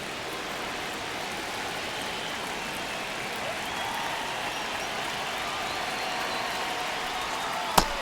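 A baseball stadium crowd in a tight one-run ninth inning, Royals against Cubs, gives off a steady, broad wash of cheering and applause throughout, fairly distant and even, with one sharp clap-like spike near the end.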